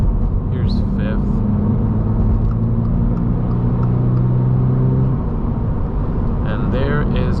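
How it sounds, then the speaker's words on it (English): Steady engine and road rumble inside a 2023 Subaru BRZ Sport-Tech with 228 horsepower, pulling in fifth gear on a winter drive, the tone rising slightly while someone talks throughout. "Feel the power in this car, the 228 horsepower."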